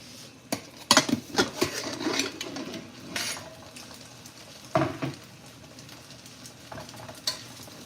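A spoon scrapes and clinks against a pot while stirring rice, with irregular knocks and faint sizzling in between.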